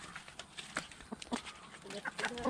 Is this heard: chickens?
yes